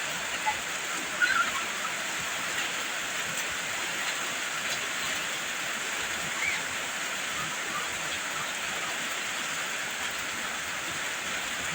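Steady rain pours down on a child bathing outdoors in it for the first time, a dense continuous hiss throughout with faint voices now and then.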